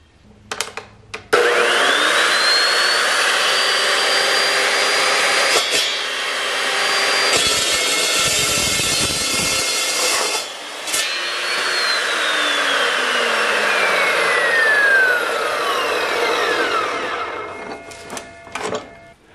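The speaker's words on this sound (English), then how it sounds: "we'll take it over to the chop saw and cut the same amount off each one of these as we did to the plastic." A chop saw cuts through the metal tube of a tractor PTO shaft, sounding as a loud spin-up whine, a long harsh grinding cut with a brief dip midway, then a falling whine as the blade winds down.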